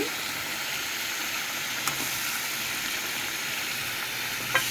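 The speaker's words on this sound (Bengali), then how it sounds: "মাংস দিয়ে কষানোতে 1 কেজি মাংস দিয়ে দিচ্ছি।" One kilogram of beef fries in a pot with chopped garlic and onion, making a steady close hiss of sizzling with a couple of faint clinks and no talk.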